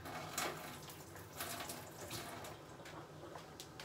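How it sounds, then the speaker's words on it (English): Tap water runs into a kitchen sink as a spoon is rinsed, a steady soft splashing rush with small bursts of spatter, fairly quiet and continuous throughout. "let me rinse my spoon off."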